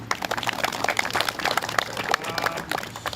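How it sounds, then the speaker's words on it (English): A crowd claps steadily at moderate volume after a girls' Australian football grand final, a thin patter of many hands spread across the whole stretch with no pause. "give them a clap"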